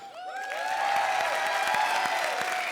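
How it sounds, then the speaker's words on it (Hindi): A comedy show's studio audience applauds and whoops for Arbaaz, scattered claps under rising cheering voices, building over nearly three seconds. "अरबाज के लिए ताली बजाओ।"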